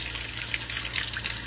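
Water running and gushing over a Ritello vacuum separator part as it is brushed and rinsed, a steady hissy splashing wash with small irregular bursts, close and fairly loud.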